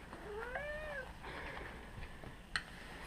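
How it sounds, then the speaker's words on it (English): A house cat gives a single drawn-out meow with a rising-falling pitch, moderately close over a quiet room hum, followed by a brief faint click. "my cat's coming to visit"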